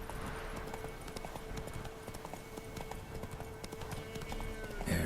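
Horse hooves galloping in The Witcher 3, a continuous rapid clip-clop rhythm mixed with game ambience, fairly even and moderate in level, with no speech.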